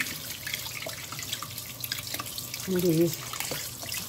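Tap water runs into a sink as meat is washed for baked ribs, a soft steady trickle with a brief louder splash near the end, under quiet talk.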